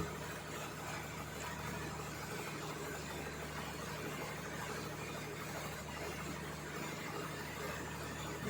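Generator engine running steadily after a new speed control unit was fitted, a continuous close mechanical drone with a constant low hum and faint high squeal, no talking.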